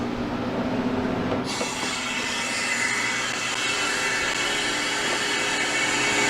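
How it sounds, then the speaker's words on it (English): The drain valve on a freeze dryer is opened, and after a moment a loud, sustained rush of air pours in and holds steady to the end. "We get the drain valve opened."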